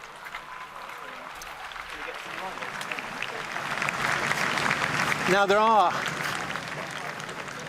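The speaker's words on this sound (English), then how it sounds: "there you can hear, every now and again, breaking out just spontaneous applause." Scattered applause breaks out in a large crowd, swelling and fading beneath someone talking over it.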